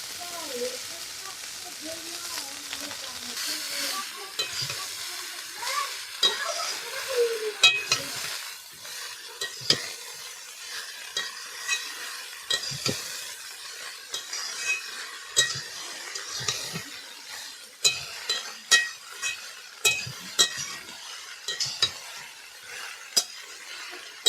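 Cabbage stir-fried with homemade spices in a pot in a village kitchen, a continuous sizzle broken by frequent scraping and clinking of a spoon against metal as it is turned over and over; faint background talk.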